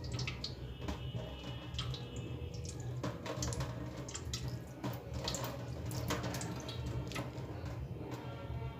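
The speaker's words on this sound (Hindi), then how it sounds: "तो इसमें मैंने पानी भी भर दिया है।" Water pours from a tap into a metal vessel, a kitchen milk boiler, as a continuous close splashing and gurgling stream with scattered drips and small clinks.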